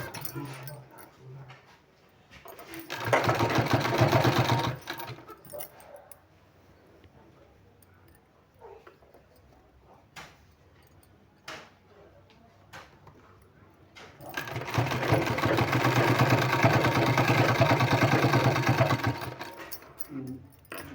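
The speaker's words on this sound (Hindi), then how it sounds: "इस तरह से यहाँ हमको सिलाई लगाना है।" A sewing machine stitches a folded sleeve strip in two long bursts of whirring, close and steady, with quiet handling and pauses between them.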